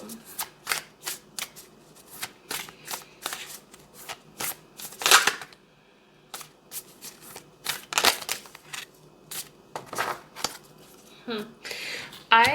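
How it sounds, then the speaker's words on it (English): Oracle cards shuffled in repeated quick riffling bursts with short pauses between, close and crisp, no talking. "When I was shuffling the deck there"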